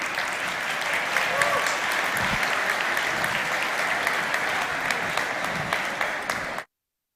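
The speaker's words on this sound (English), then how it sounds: "your applause, and cheers to the next days" Audience applause and cheers at the opening ceremony of the WRO 2022 International Final robotics competition: a large crowd claps steadily and loudly with mixed voices for several seconds before the sound cuts off abruptly.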